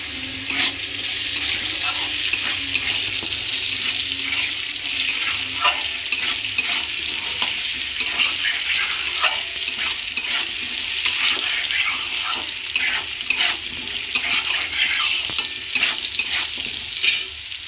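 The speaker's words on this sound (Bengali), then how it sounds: "দিয়ে দেবো আমি জিরে ফোড়ন শুকনো লঙ্কা তেজপাতা" Cumin seeds, dry red chilli and bay leaf sizzle in hot oil, a bright, steady frying hiss with crackling pops and occasional stirring, close and continuous throughout without any talking.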